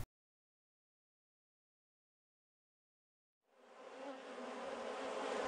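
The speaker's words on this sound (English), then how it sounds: "Honeybees fan to ventilate the hive." Honeybees fanning their wings to ventilate the hive make a dense, steady buzzing drone that starts abruptly after a long silence and holds close and loud to the end.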